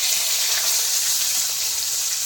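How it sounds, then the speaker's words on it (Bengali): Cut cauliflower sizzles in oil with black cumin and bay leaf, a loud, close, unbroken hiss that holds steady throughout with no voices. "এবার আমি কেটে ধুয়ে রাখা ফুলকপি দিয়ে দেবো"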